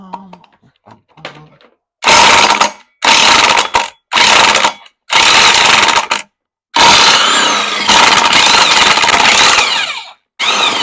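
A ratchet wrench working loose the sprocket on a 2008 Harley-Davidson Sportster, with several loud bursts of rapid clicking separated by short pauses, close by.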